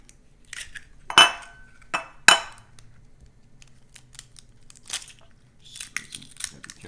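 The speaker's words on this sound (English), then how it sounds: "And we're just going to break the eggs." Two eggs are cracked against a hard edge for an egg mixture, giving sharp clinking knocks and a crunch of shell, followed by softer faint clicks in an otherwise quiet kitchen.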